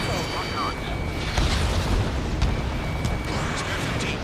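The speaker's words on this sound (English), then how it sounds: "Missile launched." Ace Combat 7 gameplay: a missile launch and explosion, heard as a loud rushing blast and rumble under a jet's steady drone, with short electronic warning tones.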